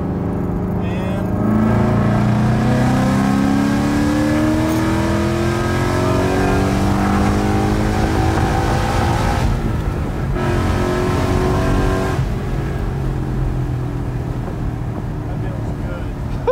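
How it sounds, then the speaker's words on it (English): A Ford Mustang S550 accelerates hard at wide open throttle in third gear, its engine note rising steadily and loudly for a long pull with a brief dip midway, heard from inside the car. "3rd gear, wide open throttle"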